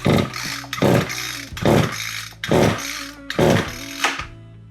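A small handheld engine's recoil starter is yanked five times in steady succession during a compression test, each pull a loud, close, rasping burst of cranking with brief pauses between, ending in a final short pull.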